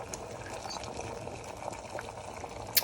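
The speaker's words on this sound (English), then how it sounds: "it's boiling away nicely" An electric kettle about half full of water and descaling fluid at a rolling boil gives a steady bubbling, pouring-like wash, with a brief sharp clatter near the end.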